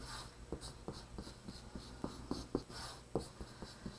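A marker or pen draws thick, loose strokes across paper, with close, repeated scratchy swipes at an uneven rhythm. No one talks.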